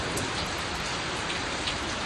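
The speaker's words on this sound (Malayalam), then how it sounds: "മഴയാണ്." Rain falls steadily, a dense even hiss of drops hitting a surface, with no voices.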